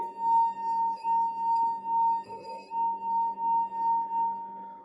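Glasses holding fluid resonate in a steady, ringing glassy tone that sustains throughout, pure and resonant like a wet rim being rubbed, with a faint lower hum beneath.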